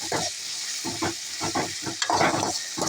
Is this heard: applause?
no